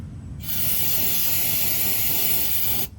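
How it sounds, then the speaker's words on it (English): Brake cleaner sprays in one continuous hissing burst, about two and a half seconds long, at the oil drain hole of a 2015 Ford F-150, loud and close with nothing else heard. "Hit this with a little brake cleaner."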